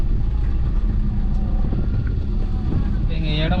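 A car drives along a village road and shifts down into second gear, with a steady close engine rumble and road and wind noise throughout and a rising whine near the end.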